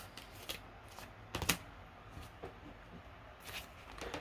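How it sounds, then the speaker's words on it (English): Tarot cards are shuffled by hand in soft, scattered riffles and taps, close and quiet against a low background hiss. "when I was shuffling"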